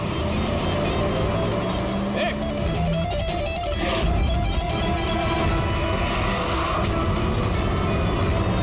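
Car engine running and pulling away, a loud close motor drone with shifting pitch, mixed with voices and background noise throughout.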